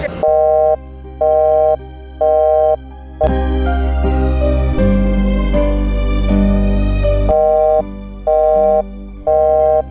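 Evenly spaced busy-tone beeps repeat on a phone line, broken midway by a louder stretch of music before the beeping resumes.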